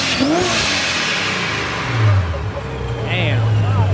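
A supercharged Nissan 370Z engine revs at a cars and coffee meet, rising and falling through a couple of throttle blips over crowd chatter, with people talking nearby.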